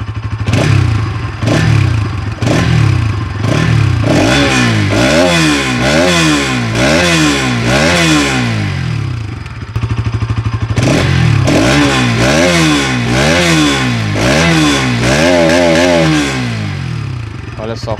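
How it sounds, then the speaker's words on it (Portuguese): A single-cylinder engine on a Bajaj Dominar 200 motorcycle runs loud and close, revving up and down repeatedly in rising and falling waves with a steady thumping idle beneath. "Motor gerador aqui, monocilíndrico. Vamos ouvir ele funcionando."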